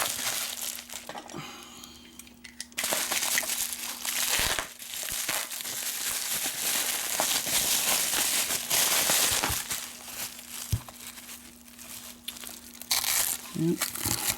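A taped padlock package being opened from the bottom, with loud crinkling, tearing and crumpling of wrapping in bursts, close by, with a person talking intermittently.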